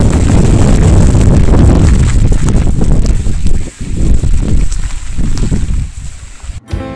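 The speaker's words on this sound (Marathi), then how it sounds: "इकडे इथून आता खूप मुसळधार पाऊस येतोय" Strong wind roars steadily across the microphone with a dense rushing wash of heavy, driving monsoon-style rain and gusts on a foggy hill path, dipping briefly near the end.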